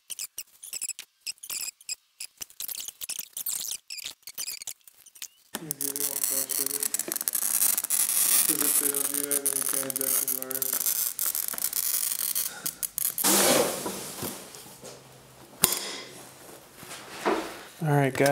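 A glass cutter scores a glass panel cut to size for a custom door, making a close, scratchy, staticky hiss for several seconds, then a second shorter pass, with quiet clicks and handling noise before it and someone talking over it.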